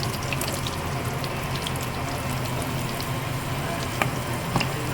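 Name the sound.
cinnamon and bay leaves stirred in hot cooking oil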